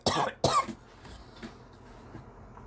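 Two sharp coughs come in quick succession, close and loud, followed by quiet room tone with faint stirring.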